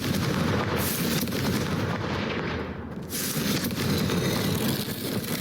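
A Confringo fire spell explodes in the Hogwarts Legacy video game, heard as a loud, sustained burst of booming blasts and crackling fire that dips briefly in the middle, then roars on.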